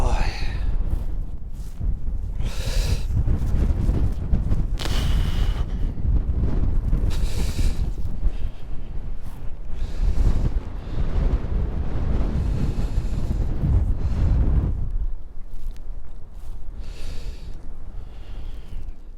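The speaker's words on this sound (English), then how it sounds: "It's still blowing a gale." A strong gale buffets a campsite on open fells around an MSR tent, loud gusty roar with heavy wind rumble on the microphone, rising and falling in surges throughout.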